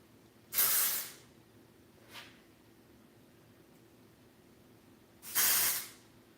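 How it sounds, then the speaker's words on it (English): Two short hissing sprays of texture spray from an aerosol can onto hair at the root, close by, separated by a few seconds of quiet, with a faint brief puff between them. "I'm gonna go in and put a little bit of the texture spray"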